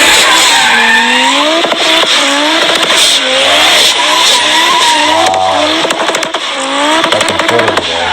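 An Audi Quattro drifts with its tires squealing loudly and continuously while the engine revs rise and fall underneath, close and intense for the whole stretch.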